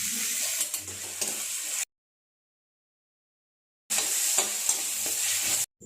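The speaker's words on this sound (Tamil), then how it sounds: "தக்காளி நல்லா வதக்கி விடுங்க." Chopped tomatoes sautéing with onion for radish sambar, a soft sizzle with scraping stirs of a spoon in the pan, broken by a silent gap before the frying resumes.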